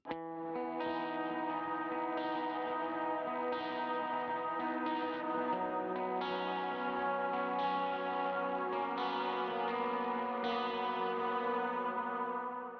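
Electric guitar chords for the chorus of the worship song "Jesus We Love You" ring out continuously, thick with chorus, delay and reverb, each strum blending into a lush wash of sound.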